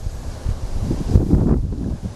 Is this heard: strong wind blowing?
yes